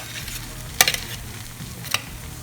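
Bati surma fries in clarified butter with a soft, steady sizzle. Two sharp metallic clinks of a utensil against the pan stand out, the first about a second in and the second near the two-second mark.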